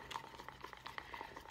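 Thick acrylic paint being stirred for a ring pour, giving soft wet clicks and gloopy taps at an irregular rhythm, quiet and close with no talking.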